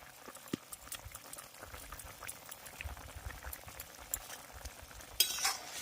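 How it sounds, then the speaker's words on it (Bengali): Shukto, a vegetable curry with bitter gourd, fried lentil dumplings and roasted spice mix, simmers in milk with faint, soft bubbling and occasional light stirring clinks, quiet and close. "এবার সমস্ত কিছু দেওয়ার পর এটাকে ভালো করে দু মিনিট ফুটিয়ে নেব"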